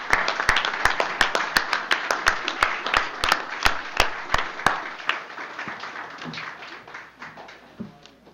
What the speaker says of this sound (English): How about a round of applause for the Mallory together?